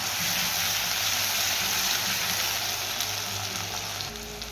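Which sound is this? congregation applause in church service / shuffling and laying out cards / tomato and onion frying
tomato and onion frying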